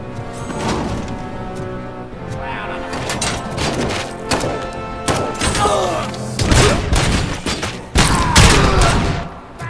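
Dense gunfire in the video game Robocop: Rogue City, loud overlapping bursts and shots crackling one after another with heavy thumps, a nearly continuous firefight throughout.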